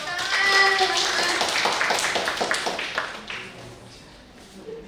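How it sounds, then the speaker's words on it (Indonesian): Audience applause at a university career-day company presentation, with a short burst of moderately loud clapping that builds and then tapers off over a few seconds, with voices in the background. "tepuk tangan, teman-teman"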